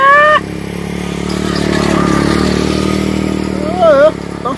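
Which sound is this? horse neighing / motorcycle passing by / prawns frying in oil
motorcycle passing by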